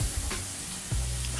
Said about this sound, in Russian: быстро обжаривать лук